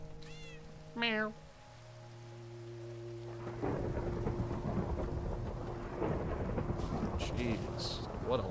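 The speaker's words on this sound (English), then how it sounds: "what a lightning storm" A cat meows, then steady rain sets in with low rumbling thunder and lightning in a Minecraft game; no one speaks.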